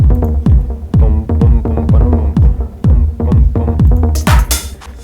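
A Diva synth sub bass run through crystallizer and radiator effects in a progressive house or melodic techno context pulses in a steady rhythmic pattern of deep, loud, throbbing notes, with a brighter noisy swell near the end and no voices.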